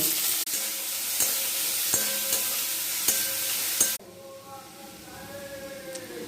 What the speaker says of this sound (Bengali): কড়াইয়ে তেল দিয়ে পেঁয়াজটা ভেজে নেব